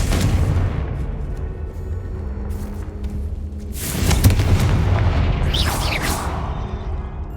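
In the Hogwarts Legacy video game, a Confringo spell goes off as a sudden booming blast after a steady game backdrop, with a bright whooshing flare trailing a second later.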